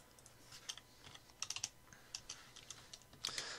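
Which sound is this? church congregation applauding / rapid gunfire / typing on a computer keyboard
typing on a computer keyboard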